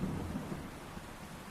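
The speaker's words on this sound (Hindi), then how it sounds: "स्पाइडर मंकी लगातार ट्रॉपिकल तूफानों के बीच रहते हैं।" A thunderstorm in a tropical rainforest: a deep, rolling rumble of thunder over steady rainfall, loud at the start and easing off, with no voices.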